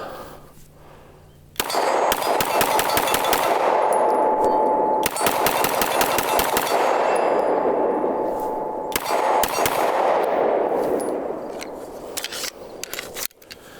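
Sig Sauer P226 X5 pistol fired in fast strings of rapid shots, three long bursts of dense, loud reports with a few scattered single shots at the end.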